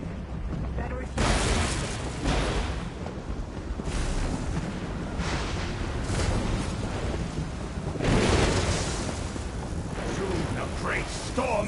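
Rumbling thunder from a magic storm spell in a fantasy video game, broad booming crashes rolling through the whole stretch with heavier bursts near the start and again around the eighth second.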